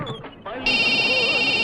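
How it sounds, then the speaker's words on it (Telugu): After a moment of talk, a telephone starts ringing in a steady, loud electronic trill that continues to the end, in an indoor comedy scene. "ఫోన్ సార్ ఫోన్ తీయండి"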